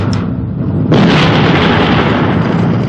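A single loud, deep blast from a PT-76 tank's cannon erupts after a brief quiet moment, then rumbles and fades slowly.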